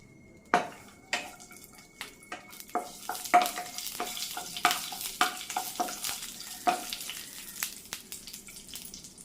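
Solid, clumped ghee warms in a pan on a stove, with a faint low sizzle under a string of sharp metallic clinks and taps of a utensil against the pan, irregular and growing more frequent.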